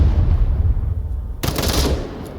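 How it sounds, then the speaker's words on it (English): An AK-5C rifle firing in the VR shooter Onward during a competitive match, a short close burst of shots cutting in over a low rumble of background noise. "Toasty catches AK-5C, catches Sir Wilson with the AK-5C"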